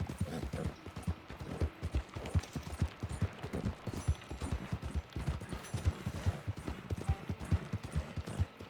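Horse hooves clip-clopping at a steady walking rhythm in the video game Red Dead Redemption 2, close and fairly loud, with faint game ambience beneath.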